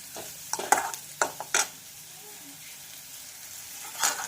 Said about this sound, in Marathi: याला छानपैकी असं फ्राय करून घ्यायचं आहे